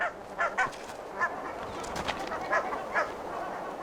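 Geese honk repeatedly at fairly close range, loud nasal calls coming in quick pairs and singles over a steady outdoor background hiss.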